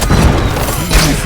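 A tower is destroyed in the online battle game Sins of a Dark Age, producing loud, deep booming impacts that crumble for just over a second.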